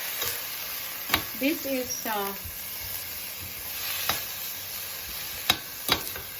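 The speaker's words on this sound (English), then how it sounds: "Mix the pork, right?" Pork being mixed for tinola in a cooking pot, with scattered clinks and scrapes of stirring over a low sizzle, and a voice speaks briefly partway through.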